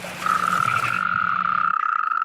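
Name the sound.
frogs and toads croaking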